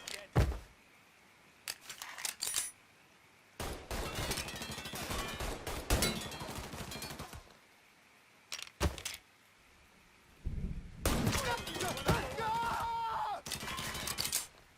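Gunfire from the Mafia 3 video game comes in irregular bursts of sharp shots and rapid automatic fire, loud and close, with quiet gaps between the volleys and a few short voiced shouts among them.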